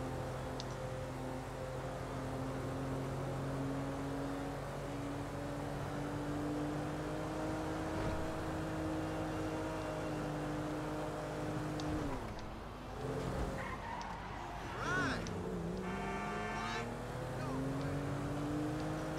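A car engine hums steadily while driving in Grand Theft Auto 5, with a sustained tonal drone that dips and rises again through brief shifts midway, at moderate level with no talking.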